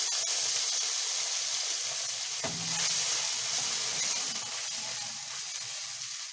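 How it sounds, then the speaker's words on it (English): Water is poured into a hot pan of fennel and erupts into a loud, sudden sizzle about midway through, then settles into a steady, close hiss of frying and steam. "it's time to add water to the pan"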